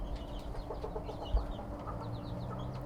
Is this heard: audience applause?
no